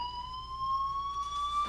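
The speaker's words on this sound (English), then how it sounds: "Do you hear that fire alarm?" A fire alarm in the video game Life is Strange sounds as a steady, sustained electronic tone held without a break, moderately loud over faint background noise.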